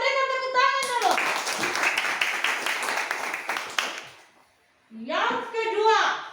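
Children clapping in a classroom, a dense burst of hand claps lasting a few seconds, close and loud, with a voice speaking before and after.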